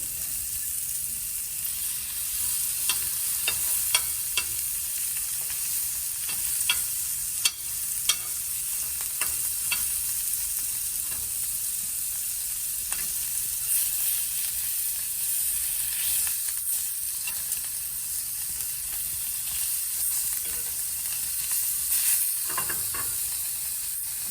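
Shrimp fry in a pan for cioppino, a steady close sizzle and hiss that runs throughout, broken by intermittent scraping and clicking as they are stirred, with no talk.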